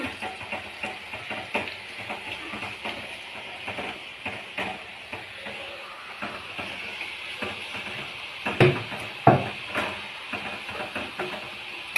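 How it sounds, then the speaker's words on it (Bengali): Nimki snacks fry in hot oil in a kadai, giving a steady close sizzle with frequent small crackles and pops and a few sharper clatters near the end, with no voices over it. "নিমকিটা কড়াই দিয়েছি"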